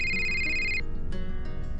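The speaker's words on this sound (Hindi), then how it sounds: "थोड़ी देर बाद रितिका को डॉक्टर आशा माथुर का फोन आया" A telephone rings with a bright electronic ringtone that sounds for under a second and then cuts off, leaving a low background hum. The ring is close and clear, and no one speaks.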